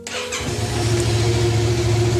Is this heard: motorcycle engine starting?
yes